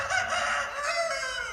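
A rooster crows in the morning among chickens, one long, loud, strained call held close and clear with no other sounds.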